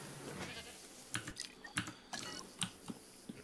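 Goats in the Jurassic World Evolution 2 video game give several short, close bleats in an irregular run, over a soft ambient game bed.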